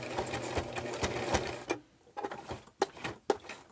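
A sewing machine stitches a small fabric mini wallet, first in a rapid continuous run, then after a short pause in a few brief separate bursts as it goes back over the seam, close up with no talking.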